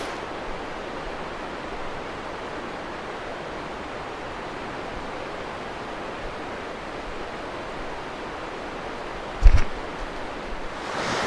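A river in Michigan's Upper Peninsula rushes in a steady, broad roar, with a sharp knock near the end.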